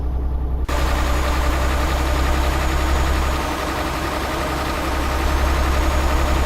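A heavy truck engine in the video game Euro Truck Simulator 2 drones steadily at a low pitch, continuous and close, with no other sounds alongside it.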